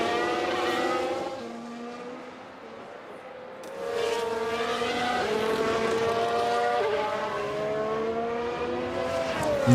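In F1 Manager 23, Gasly's race car pulls out of the pits at the Qatar race, its engine whine climbing and shifting through rising pitches, with other cars droning in the background.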